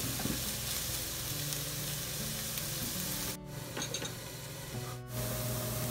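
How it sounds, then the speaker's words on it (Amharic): Chopped onions frying in a small amount of hot oil in a pan for a tuna stew, a steady loud sizzle with scraping stirs and brief dips in the crackle. "ከዛ ዘይቱ ጋር ሲልልኝ ሽንኩርቱን ጨምራለሁ።"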